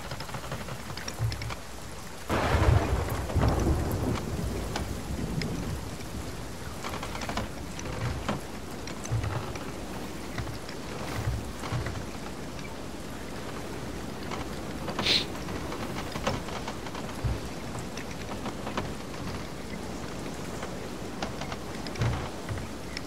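Heavy rain falls during a Sea of Thieves thunderstorm at sea, a steady hiss broken by a loud, rolling thunder crack early on and softer distant rumbles later.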